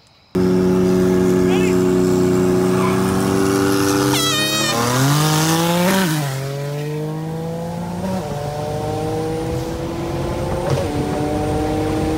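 A loud 1989 Chevrolet Camaro IROC-Z engine rumbles at idle at a street car racing event, then revs up sharply and drops back to a steady, throaty idle.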